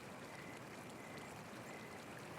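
A babbling brook flows softly and continuously, a faint, steady wash of running water.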